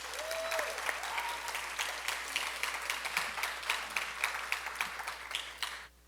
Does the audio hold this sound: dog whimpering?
no